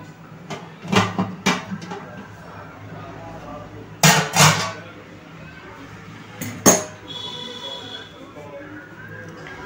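A lid goes onto a heated cooking pot while a no-oven chocolate cake is being made in a kitchen, giving a few sharp metallic clanks and knocks spread through the clip, under a woman's speech.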